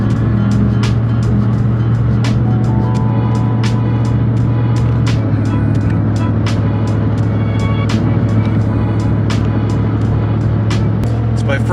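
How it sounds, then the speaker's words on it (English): Steady, loud cabin drone of a Cadillac Escalade cruising on an interstate in Colorado, with a constant low engine and road hum and faint intermittent ticks, continuous throughout without clear speech. "My first time driving on this part of the interstate"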